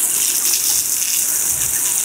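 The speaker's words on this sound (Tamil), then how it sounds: "லேசா அந்த சாணம் நல்லா ஊறுற மாதிரி லேசா தெளிச்சா போதும்" Water splashed lightly over cow dung manure spread on garden soil, a steady close gushing and spattering hiss that runs the whole time with no voices.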